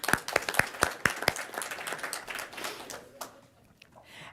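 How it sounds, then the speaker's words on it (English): An audience applauds at a Fort Worth ISD school board meeting: a burst of crisp hand claps from a modest crowd that thins out and fades to scattered claps. "And let's give one more round of applause to Lilly B. Clayton."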